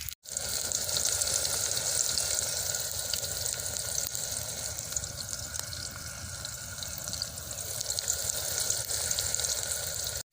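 Onions frying in a pan until light brown, for chickpea pulao. A steady, close sizzle runs unbroken for about ten seconds with no voice over it.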